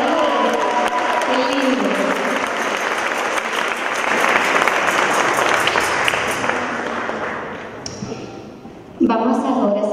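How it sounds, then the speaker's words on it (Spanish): A crowd at a worship concert breaks into loud, dense applause that holds for several seconds and then thins out, while a voice speaks over it and music returns at the end. "Un aplauso al Rey de Reyes"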